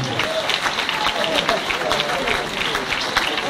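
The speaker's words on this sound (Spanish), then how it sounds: "Un fuerte aplauso para Horacio Pebete Godoy" An audience at a tango milonga event claps steadily for an honored milonguero, a dense, even patter of many hands with crowd murmur throughout.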